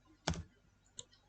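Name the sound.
typing a formula on a computer keyboard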